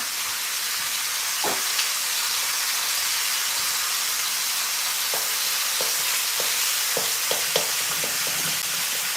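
Turkey sizzles loudly in a very hot pan, a dense continuous frying hiss with scattered sharp pops and spatters, close by and with no talking.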